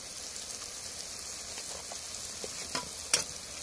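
Water and turmeric powder hitting a hot frying pan while making chicken kosha, a bright, hissing sizzle with faint crackles and a couple of soft clicks near the end.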